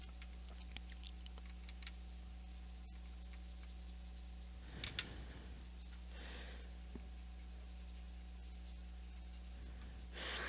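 Colour pencil scratches and scribbles across paper, a soft continuous close scraping with small bursts of quicker strokes over a low steady hum.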